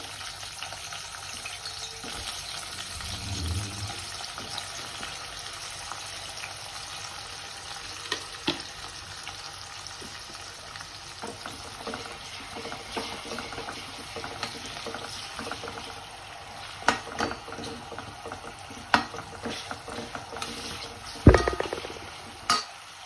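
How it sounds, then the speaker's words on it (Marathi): Chopped onion fries in oil in a pan, a continuous low sizzle with scattered stirring clicks and scrapes that become sharper and more frequent toward the end, without any speech. "आता आपण हा कट केलेला कांदा तो पूर्ण या तेलामध्ये टाकून फ्राय करून घ्यायचा।"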